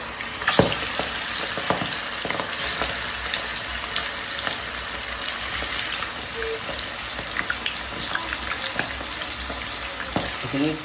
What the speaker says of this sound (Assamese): এইখিনি এতিয়া আমি ধুনীয়াকৈ ফ্ৰাই কৰি ল'ম